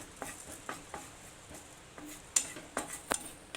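Fenugreek seeds roasting in a pan are stirred with a metal utensil, giving a string of faint, sparse scrapes and clinks spread across a few seconds, with no talking.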